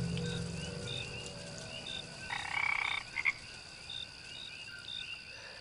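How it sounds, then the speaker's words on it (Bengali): Night frog chorus in the countryside just after rain, with steady croaks and a persistent high insect-like trill, a brief louder burst of croaking midway, with no voices. "ব্যাঙ আর ঝিঁঝির সমবেত কণ্ঠস্বরে রাত মুখর হয়ে উঠেছে।"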